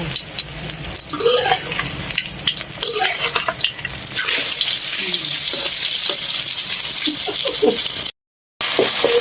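Pork kua kling, a southern Thai dry curry, stir-fries in a hot pan with loud, steady sizzling and scraping spatula strokes. A brief dropout comes near the end, and faint voices sit underneath.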